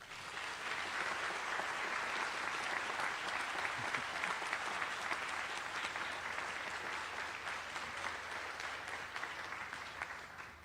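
An audience applauds students' families at a medical school white coat ceremony, with continuous even clapping from a large crowd that stays steady and somewhat distant for over ten seconds.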